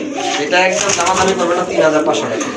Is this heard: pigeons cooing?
yes